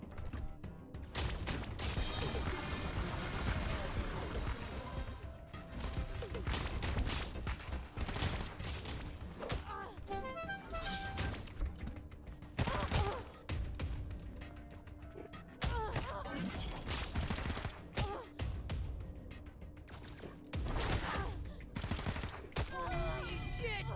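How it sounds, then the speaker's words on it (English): Minigun turret fire in a video game, dense rapid bursts of automatic gunfire with thuds and mechanical clatter over game sounds, loud and near throughout, with players' voices talking at times. "Oh, the minigun turrets."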